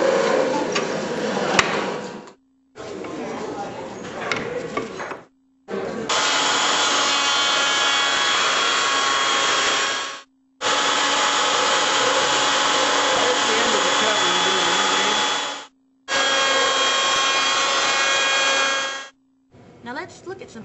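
A hand saw cuts wood in a high school wood class, its strokes making a rasping sound in long continuous bursts broken by brief pauses, with a steady low hum underneath.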